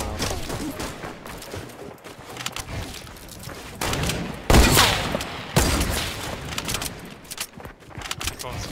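Rapid bursts of gunfire in a sniper video game, with dense crackling shots and a few sharper loud reports, heard up close while a voice talks over the action.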